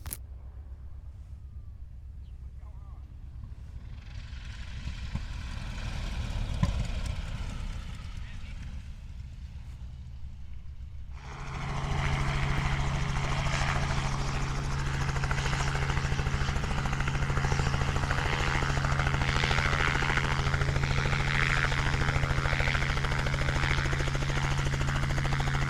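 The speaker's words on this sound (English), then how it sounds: "Here comes a really beautiful biplane with open cockpits and a radial engine on the front." Open-cockpit biplane with a radial engine flying in to land, a steady loud droning roar that begins abruptly partway through and holds to the end, preceded by quieter wind-like rumble.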